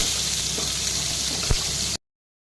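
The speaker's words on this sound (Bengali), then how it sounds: "এবারে মাছগুলো তুলে এবার বেগুনগুলো ভেজে নেব।" Eggplant frying in hot oil in a pan after fish, a steady, even sizzle with a single soft clack partway through, cutting off abruptly.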